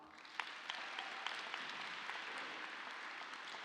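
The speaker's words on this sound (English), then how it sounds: "Please join me in welcoming our distinguished guests with a round warm of applause." Audience applause fills a high school graduation ceremony hall, a steady, dense wash of many hands clapping that holds at an even, fairly distant level throughout, with occasional sharper individual claps poking out.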